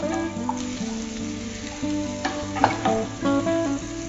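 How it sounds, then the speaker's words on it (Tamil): Onions sautéing in a pan for a puli keerai (sorrel leaves) dish, browning as they cook: a continuous close sizzle, broken by several spoon scrapes and clinks against the pan, with no voices. "வெங்காயம் இப்ப நல்லா வதங்கிடுச்சு, அந்த பிரவுனிஷ் கலர் வந்துடுது."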